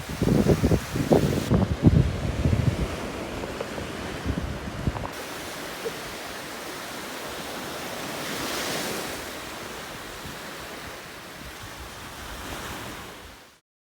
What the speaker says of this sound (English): still nice and calm waves